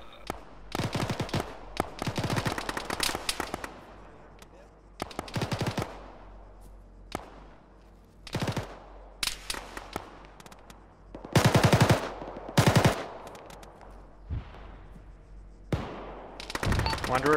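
Machine gun fire in a ShackTac military shooter game: loud bursts of automatic fire come in clusters of varying length with short gaps between, some sustained, others brief, close and harsh.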